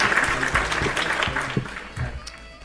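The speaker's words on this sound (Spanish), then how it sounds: "Poné aplausos, Gus." A short burst of crowd applause is played in as a sound effect during a talk show, a dense, close patter of clapping that fades out within a few seconds.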